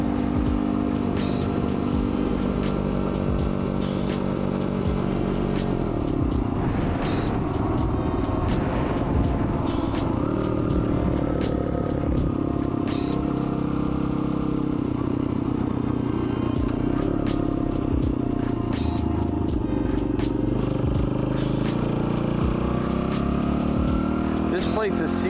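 A small pit-style dirt bike engine droning loudly and continuously while riding through woods, with rattling and clatter from the bike and a voice talking over it.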